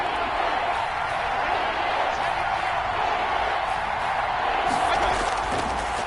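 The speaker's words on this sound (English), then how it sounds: "The crowd getting into it as we come up on a big 3rd down." Stadium crowd in a Madden 21 American football video game roaring steadily ahead of a big third-down play, a dense continuous wall of cheering and noise with no pauses.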